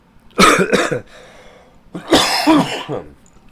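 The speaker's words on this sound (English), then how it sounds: "Some things make me cough more than others." Two harsh coughs in quick succession, then a longer rough coughing fit, loud and close with no talking.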